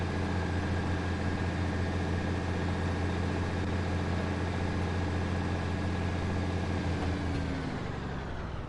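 A train engine in Train Sim World 5 drones at steady high revs, a dense continuous rumble that holds evenly throughout before easing slightly near the end.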